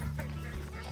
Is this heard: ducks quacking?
yes